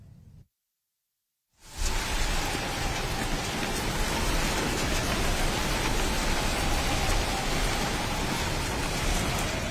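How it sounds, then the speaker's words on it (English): Heavy rain pours in a dense, steady roar that starts suddenly after a brief silence and stays loud and even throughout. "Heavy rain on Thursday, November 16th caught many residents off guard."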